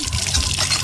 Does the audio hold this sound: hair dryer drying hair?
no